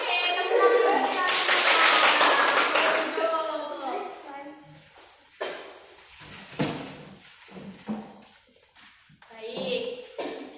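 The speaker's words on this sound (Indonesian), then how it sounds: "Oke, tepuk tangan kita." A group claps together during a counseling session, a dense burst of hand claps in the first few seconds, then scattered taps and brief talk follow.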